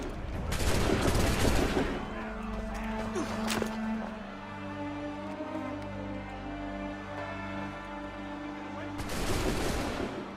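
Musket volley gunfire in Assassin's Creed III: a loud burst of massed shots at the start, a sharp crack near the middle, and another heavy volley at the end, over a sustained game soundscape with a voice briefly audible.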